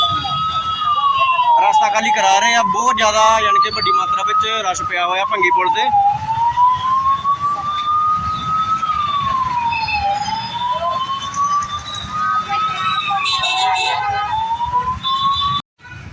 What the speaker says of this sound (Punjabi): ਪੁਲਿਸ ਪ੍ਰਸ਼ਾਸਨ ਕਢਾ ਰਿਹਾ ਜੀ ਐਂਬੂਲੈਂਸ ਨੂੰ ਦੇਖ ਸਕਦੇ ਹੋ